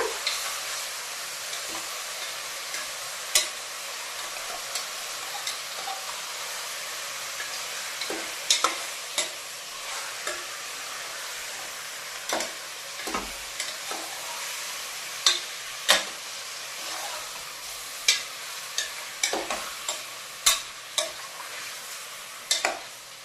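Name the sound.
frying chicken curry ingredients in oil, stirring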